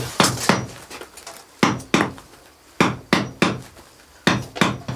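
Hammer blows during earthen house construction, loud close thuds in uneven pairs and clusters, each strike sharp with a short resonant decay, no talking.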